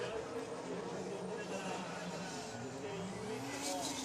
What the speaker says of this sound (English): Ben Chiam pulling up the handbrake, sliding into the outer zone